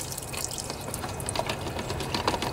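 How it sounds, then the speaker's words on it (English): Steady running water splashes and trickles while rinsing baking soda off a wire connector on a Craftsman riding lawnmower with a 24 HP Briggs and Stratton engine, a continuous close wash with no voices. "I'm just going to make sure to rinse everything here"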